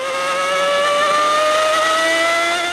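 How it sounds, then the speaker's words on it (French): A Ferrari V12 racing car screams past at Monza, a loud high-pitched engine wail that rises steadily in pitch as it accelerates, with no voices. "de la symphonie magnifique des V12 Ferrari"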